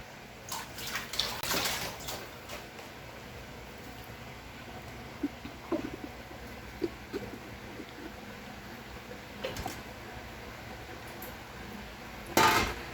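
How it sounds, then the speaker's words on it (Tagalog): Hands washed under a running tap at a kitchen sink, soft intermittent splashing bursts with a few clinks, fairly quiet and alone. "maghuhugas lang ako ulit ng kamay"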